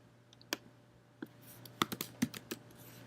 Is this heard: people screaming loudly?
no